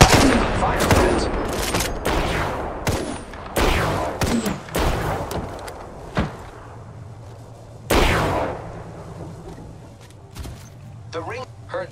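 Apex Legends gunfire rattles in repeated sharp bursts and volleys, loud and close with quieter gaps between, mixed with occasional game voice callouts and a lingering low hum.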